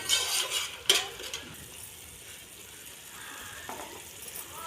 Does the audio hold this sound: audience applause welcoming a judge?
no